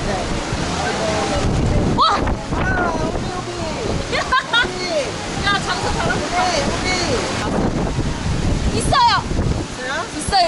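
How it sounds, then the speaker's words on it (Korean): Strong wind on Boracay in the rainy season, roaring and buffeting a nearby microphone continuously with gusty surges, while people talk faintly beneath it. "바람이 장난이 아니야, 진짜로."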